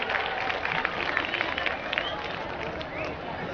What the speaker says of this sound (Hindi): जोरदार ताली इन बच्चों के लिए